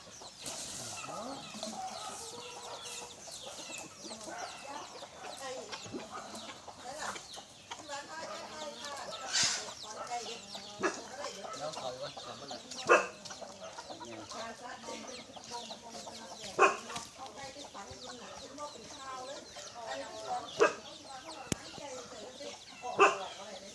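Chickens cluck and chatter continuously in a busy yard, with occasional sharper calls rising over the flock; a voice may speak faintly underneath.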